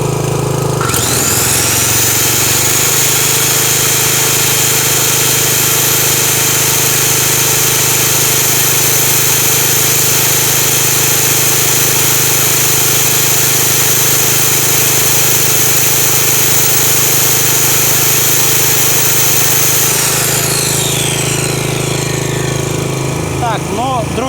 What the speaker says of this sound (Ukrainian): Тепер вмикає дискову пилу.